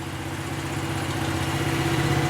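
A 1971 Chevy truck engine idles steadily with a low, rumbling, slightly uneven throb, close by and continuous, no voices.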